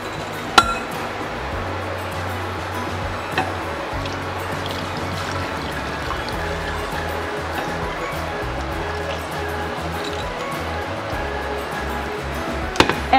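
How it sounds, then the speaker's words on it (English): Hot brewed kombucha tea strained into a glass Pyrex jar on a kitchen counter, a steady low trickle running throughout with a few sharp glass clinks near the start and end. "I'm gonna strain it off into a glass Pyrex jar."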